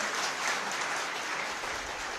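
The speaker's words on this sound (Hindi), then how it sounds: "पुष्कर धामी जी के लिए जोरदार तालियों से इनका स्वागत किया जाए" A crowd at a BJP election rally in Patiala claps to welcome the chief minister, a brief, steady burst of applause at an even level throughout.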